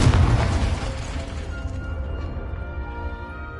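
A Confringo blast spell goes off in Hogwarts Legacy, giving one loud booming explosion at the start that fades into a low rumble and a lingering tail.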